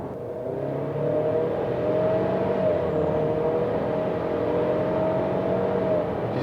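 A new Ford Explorer's 2.3 EcoBoost engine revs up steadily in normal mode, its pitch climbing smoothly over several seconds as the vehicle accelerates, heard from inside with no talking.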